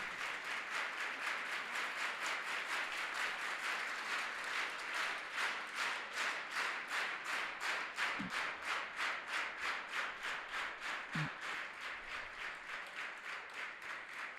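An audience at Tirthdham Sardhar claps to welcome the speaker Giribapu, a faint, even stream of rhythmic applause beating at a steady pace for the whole stretch.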